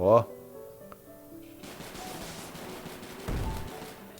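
Bursts of gunfire from the PC-to-mobile survival video game Deadly Land: a sharp shot at the start, then a dense, sustained rattle of rapid fire with a louder burst near the end, while a voice talks over it.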